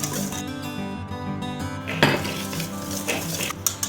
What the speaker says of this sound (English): I'm going to just add a little tiny bit at a time and then whisk